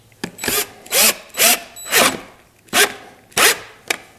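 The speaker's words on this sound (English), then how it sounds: "I'm gonna stick this center brace down with screws from the underside." Power drill driving screws up through the underside into a wooden center brace of a decorative shelf, six loud whirring bursts of about half a second each in a steady rhythm, close by and with no talking.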